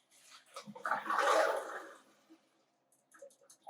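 Cooked beans pour from a pot into a colander in a kitchen sink, a close, loud watery rush that swells and fades over about a second, with small splashes and clatter before and after.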